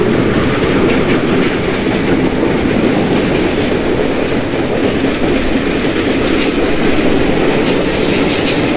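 An Indian Railways WDP4D diesel locomotive hauling superfast express coaches across a bridge in the Open Rails train simulator game, a loud continuous rumbling rail roar with rhythmic clatter of wheels on track throughout.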